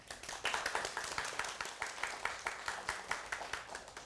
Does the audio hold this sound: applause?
yes